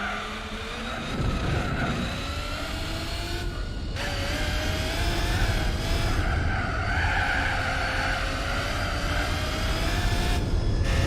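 Car tyres skid and squeal almost continuously in Gran Turismo 4 as a car struggles for grip on worn tyres at low speed, a sustained wavering screech over engine drone, loud and alone without talk.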